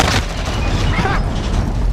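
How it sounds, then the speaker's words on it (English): Gunfire in the video game Modern Warfare comes as loud, dense booming bursts and crackling shots that fill the whole moment, with no clear talk over them. "They're shooting at me!"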